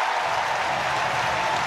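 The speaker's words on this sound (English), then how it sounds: "the crowd like it" A rugby stadium crowd at Glasgow Warriors v Ulster applauds after a kicked penalty, a loud, dense and unbroken roar of clapping filling the whole moment.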